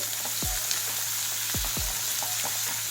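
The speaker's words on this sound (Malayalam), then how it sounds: "കടുക് പെരുംജീരകം ഇട്ട് ഉള്ളിയിട്ട് നല്ല ഒന്ന് മൂപ്പിച്ചെടുക്കണം" Mustard seeds, fennel and sliced onions fry in a spoonful of oil for a Chinese potato stir fry, a dense steady sizzle up close punctuated by a few low thumps of the spoon.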